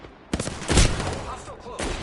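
Gunfire in Apex Legends, a few loud close shots and a heavy impact over about two seconds, with a voice mixed in.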